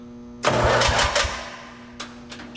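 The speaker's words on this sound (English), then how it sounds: "Fire this thing up and take it for a spin around the neighborhood." A free Ford lawnmower engine catches with a loud, close start and runs roughly for about a second, then eases down to a quieter idle with a few sharp pops.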